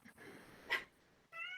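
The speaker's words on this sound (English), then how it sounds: "That was like the sweetest, softest meow." A cat gives a single soft, sweet meow, brief and quiet, standing alone over faint background hiss.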